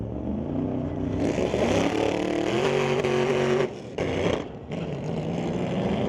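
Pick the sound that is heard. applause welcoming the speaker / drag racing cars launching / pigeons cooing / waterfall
drag racing cars launching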